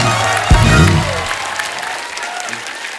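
Studio audience applause on a comedy talk show, a burst of clapping that sets in strongly and then slowly fades, with a thud near the start and some faint voices.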